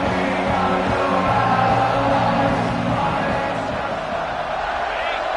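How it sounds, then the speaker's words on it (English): Stadium crowd noise in the College Football 26 video game at the start of the fourth quarter, a loud, steady roar of cheering and yelling that holds for several seconds with no break. "No fall off from the noise or intensity from this crowd as we start the fourth quarter."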